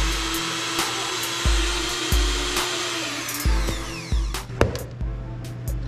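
An electric mixer works thickening cookie dough as flour goes in for Greek Easter koulourakia. The motor's whine comes in repeated bursts, each starting with a low thump as the beaters bog down and restart.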